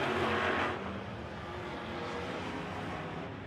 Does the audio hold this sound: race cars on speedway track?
yes